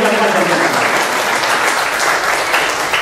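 A church congregation claps together in loud, sustained applause during a worship service, a dense steady roar of hands with no break.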